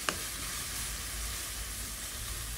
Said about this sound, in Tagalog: Lagyan din natin ng kaunting ginger powder. Yan. Gisa natin ulit.